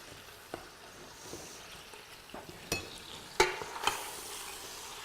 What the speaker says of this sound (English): I'm going to go back and just take a look and give our stuff a stir here.